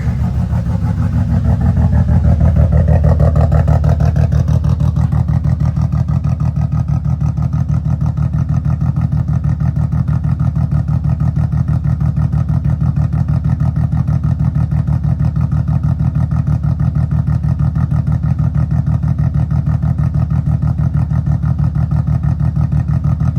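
A BMW E36 with a blown head gasket and no O2 sensors idles steadily, a loud, even low rumble with a constant throb that holds for over twenty seconds with no voices over it.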